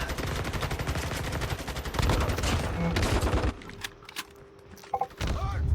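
Rapid gunfire from a Call of Duty Mobile match fills the first part as a dense stream of loud shots. It then gives way to quieter scattered game sounds and a few isolated bangs.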